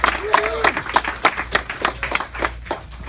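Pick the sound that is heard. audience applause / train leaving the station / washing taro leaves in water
audience applause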